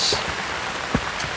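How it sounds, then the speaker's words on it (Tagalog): Rain patters steadily on surfaces in a forest while a small group walks sharing one umbrella, a broad soft hiss with a few faint drop taps, no talking. "nabutan tayo ng ulan"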